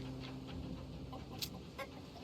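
A chicken in the snowy video game Gerda: A Flame in Winter clucks in a couple of short, soft bursts over a steady background ambience, with no one talking.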